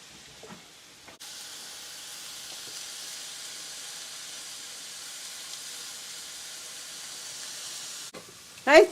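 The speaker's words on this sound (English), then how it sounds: "And I do salt and pepper the pork chops when I'm frying them." Salted and peppered pork chops fry in a pan with a steady, even sizzling hiss that runs for several seconds before cutting off, followed by a brief clatter at the end.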